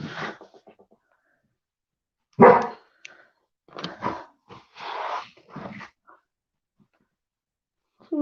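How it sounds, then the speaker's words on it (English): A dog woofs in its sleep with a few soft, muffled low barks and huffs scattered through near-silence, close by and fairly quiet. "He's woofing in his sleep."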